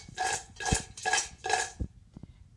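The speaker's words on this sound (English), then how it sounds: "So we'll give it a stir like this." A utensil stirs shrimp with spices in a bowl, making four even, rhythmic scraping swishes followed by a couple of soft taps, close and quiet.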